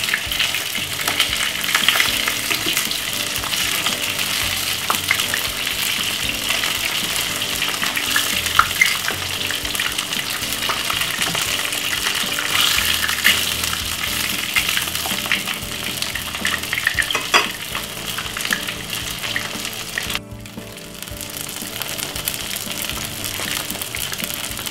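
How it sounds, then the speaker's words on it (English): Cabbage and sausage sizzle steadily in a frying pan, with occasional stirring and scraping, loud and close, briefly dipping near the end before carrying on. "We're gonna fry some cabbage and sausage."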